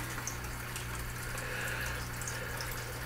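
Steady trickle of water from a filter running in a Sterilite tub holding a pet turtle, continuous and close with a low hum beneath, no talking.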